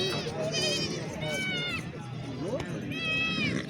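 Goats bleating at a busy livestock market, several wavering calls one after another, close and loud over constant crowd chatter and people talking nearby.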